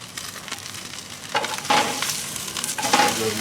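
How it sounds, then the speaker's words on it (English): A steak sears on a very hot cooking surface, giving a steady close-up sizzle that swells louder in a few bursts as the meat is shifted, with no talking. "I'm just doing a sear and then cook"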